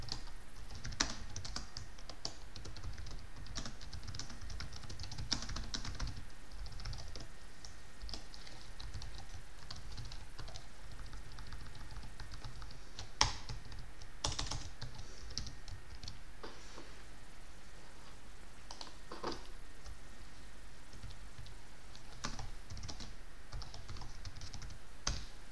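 Steady typing on a computer keyboard, quick uneven key clicks running for the whole stretch with one sharper tap partway through, close and fairly quiet.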